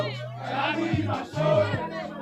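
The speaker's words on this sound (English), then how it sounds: "Total celebration from the cheering squad of district number 9." A cheering squad of football supporters from District 9 celebrates with sustained, chant-like singing at an LFA district league final. The massed voices hold steady tones that rise and fall together over continuous crowd noise.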